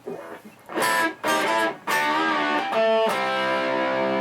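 A 2016 Jackson Pro Series Monarkh SC electric guitar played through its bridge pickup with heavy distortion gives a few bright, biting lead notes, then long sustained phrases with clear overtones, played loud and on its own.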